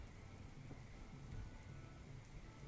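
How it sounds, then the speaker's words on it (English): Steady rain ambience with a soft, continuous patter and a low rumble underneath, even and unbroken throughout, with no voices over it. "He's enjoying the rain."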